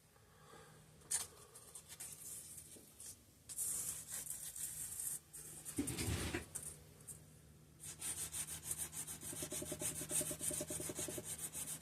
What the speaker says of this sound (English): Do a little sanding on that.